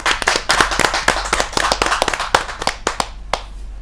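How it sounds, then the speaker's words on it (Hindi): Audience at a Hindi poetry gathering applauding to welcome a poet, loud brisk clapping from a modest crowd that thins out toward the end. "स्वागत कीजिए तालियों के साथ"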